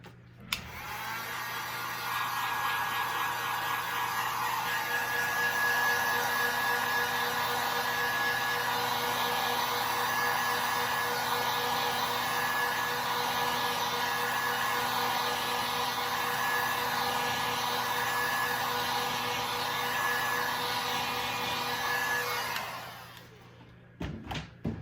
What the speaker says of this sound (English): Now get out your heat gun and you're going to want to heat your epoxy up that's on your cup.